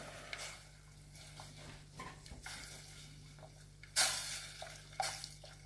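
Sweet and sour sauce thickened with cornstarch is stirred in a pan, giving quiet, irregular scrapes and soft bubbling with a couple of sharper knocks near the end.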